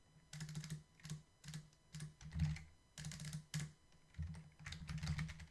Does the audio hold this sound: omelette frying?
no